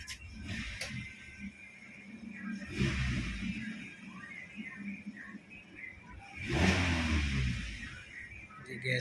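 Idling Maruti WagonR from 2021 fitted with a 14 kg CNG kit, running on petrol, hums at low pitch close by, with two brief swells in engine noise and background voices now and then.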